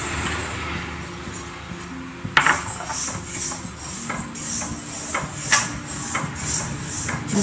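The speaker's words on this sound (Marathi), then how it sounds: "आता आपण तीळ भाजून घेऊ।" Sesame seeds roast in a pan for Marathi til ladoo, rustling and crackling close by with scattered soft pops and taps as they are stirred, alone with no voices.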